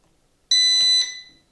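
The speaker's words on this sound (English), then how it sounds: "you see this light blinking, and you also heard a beep" An RC ERA Bell 206 Jet Ranger helicopter transmitter gives a single short electronic beep, about half a second long and clear against near silence, as its trim lever is pushed down.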